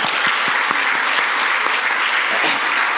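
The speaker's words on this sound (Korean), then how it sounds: "이럴 때는 하나님께 영광의 박수 한번 해야 돼요" A church congregation claps together in a dense, steady round of applause that runs the whole time without a break at close range.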